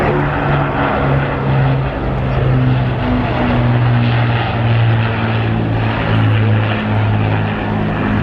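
An Avro Lancaster B.II four-engine propeller bomber passes overhead at the RIAT air show, its loud, steady droning roar with wavering engine tones filling the whole stretch without letup.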